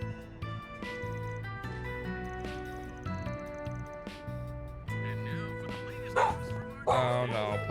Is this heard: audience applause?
no